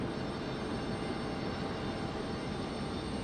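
A Southwest airliner at Raleigh Durham airport gives off a steady broadband engine roar, constant and fairly loud, with no voices.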